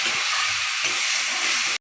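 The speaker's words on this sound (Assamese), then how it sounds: "এতিয়া পেষ্টটো অলপ সময় ভাজি ল'ম" Spice paste for a duck and white gourd curry sizzles in a hot pan with a loud, steady hiss and faint stirring underneath, then cuts off abruptly.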